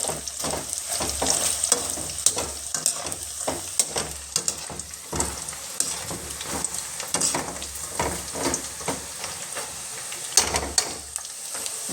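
Groundnut pakoda sizzles and crackles steadily in hot oil at close range, with repeated scraping and stirring strokes through the batter and no voices.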